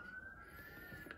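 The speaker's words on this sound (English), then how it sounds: "Do you hear those sirens in the background?" A siren wails far off on a street in Albuquerque, a faint steady tone held under the room's quiet background.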